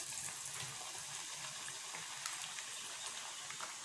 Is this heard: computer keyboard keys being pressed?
no